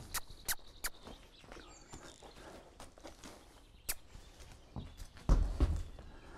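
Horse walking past a horse trailer during loading training, with scattered hoof steps and soft clip-clop on the ground, faint and intermittent, ending in a couple of louder thuds.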